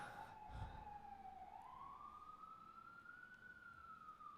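A distant emergency siren wails steadily, its tone sliding slowly down and back up, faint beneath low background rumble.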